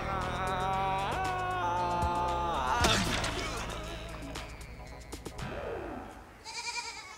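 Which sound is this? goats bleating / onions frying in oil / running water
goats bleating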